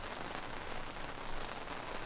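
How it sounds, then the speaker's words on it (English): Steady rain falling outside a garage, a dense, even hiss of drops without breaks, moderately loud and with no voices. "really rainy."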